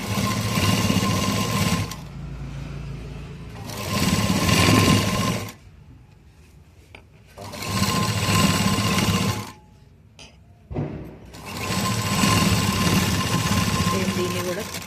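A sewing machine stitches the V-neck of a school uniform in four loud, close runs of rapid mechanical whirring, separated by short quiet pauses.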